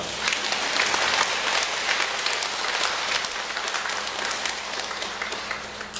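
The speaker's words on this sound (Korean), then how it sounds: "이때 박수를 쳐보세요." A church congregation claps together after a sermon call to applaud, a steady dense wash of many hands filling the hall for about six seconds, fairly loud and continuous.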